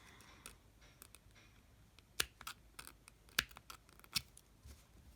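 Scissors snip through beaded pearl necklace thread in a few sharp, close clicks, spaced apart over a quiet background.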